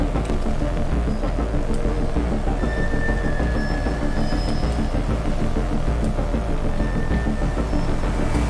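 Steady rumbling rail noise of a tram in Atomic Heart, a continuous loud low roar with faint squealing tones, no speech.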